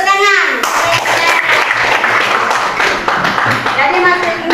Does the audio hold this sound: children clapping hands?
yes